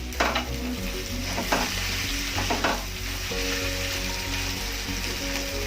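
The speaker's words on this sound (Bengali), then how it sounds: "যে মাছের মাথাটা, মাছটা আগে থেকে ভিজে রেখেছিলাম সেটা দিয়ে দেবো, দিয়ে একটু ভালো কষিয়ে নেব।" A katla fish head sautés in a pan with a dense, close sizzle and crackle, punctuated by several sharp scrapes and knocks of a spatula as it is stirred, with no talking.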